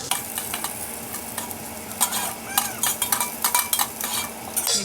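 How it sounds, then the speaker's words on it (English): Garlic sautéing in a pan on a gas stove for a home-cooked Goan dinner, a steady sizzle with a utensil stirring and scraping in bursts, the clatter growing busier and louder toward the end. "And the garlic. Let that saute well."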